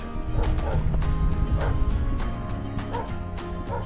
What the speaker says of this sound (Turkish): Köpekler selamlıyor bizi.